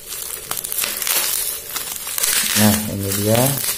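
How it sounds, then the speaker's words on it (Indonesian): Plastic bubble wrap crinkles and rustles close by as it is pulled off a small toy gearbox, with a person talking over the end. "Plastik bubble wrap-nya."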